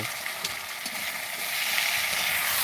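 Chicken cooks in a pan in a home kitchen, giving a continuous close sizzle and crackle of frying that grows slightly louder toward the end, with no talking.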